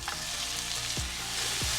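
Crushed garlic and onions fry in a hot pan, giving a steady, close sizzle with a crackling hiss that continues without a break, alone and without talk.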